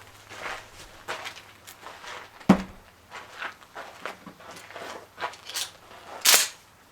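A shotgun fires buckshot at a paper target outdoors, one sharp loud blast standing out against quiet background noise and light rustling, with a second crack-like burst later.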